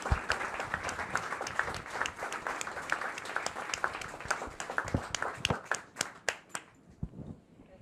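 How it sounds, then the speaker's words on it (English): An audience at an evening talk gives a warm round of applause, dense clapping that thins into a few scattered individual claps before fading out. "could we just have a round of applause for Marsha?"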